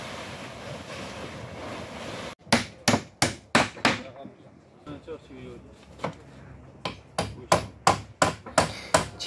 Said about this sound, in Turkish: Çivi çakan bizim Hüsamettin amcamız.